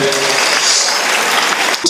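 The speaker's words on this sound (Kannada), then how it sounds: "ಇನ್ನೂ ಜೋರಾಗಿ ಚಪ್ಪಾಳೆ ತಡಬೋದ ಎಲ್ಲ ಸೇರಿ." An audience at a public ceremony in Udupi, honouring a local girl's world record, breaks into loud, dense applause that fills the moment with continuous clapping.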